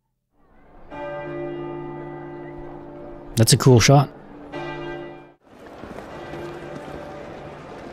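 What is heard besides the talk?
church bells ringing in House of the Dragon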